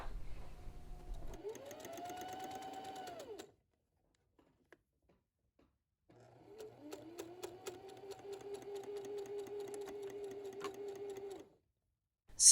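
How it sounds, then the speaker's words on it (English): A sewing machine stitching a seam on a tie jacket in two separate runs, each a close, steady motor whine that rises in pitch, separated by a silent pause, with a sharp click at the end. "I'm going to stop my stitch right where the stitch line from where I attach the collar piece to the body is"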